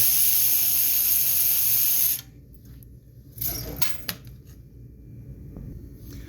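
A battery-operated power tool removes bolts from a Yard Machine front-tine garden tiller: a loud steady whir for about two seconds, then quieter ratcheting clicks and rattling as the tool stops.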